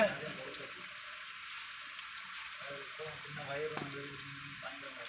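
Slices of katta fish fry in oil with a soft, steady sizzle that stays fairly faint throughout. Indistinct voices murmur in the background.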